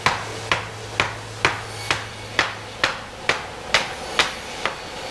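A hammer strikes pallet wood about ten times at a steady, even pace while pallets are broken down for timber, each blow a sharp, close knock with no talking.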